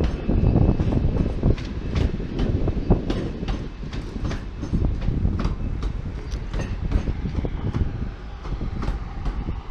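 A train at Manchester Piccadilly station rolls past close by with loud, rhythmic clickety-clack wheel beats over a heavy rumble, steady throughout and no voices.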